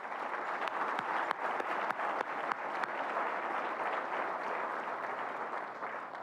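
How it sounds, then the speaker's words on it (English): A large audience at a North Carolina community colleges awards dinner applauds students, producing a sustained, even wash of many hands clapping at a distance, dense and steady throughout with no voices. "Please join me in a round of applause for these outstanding students"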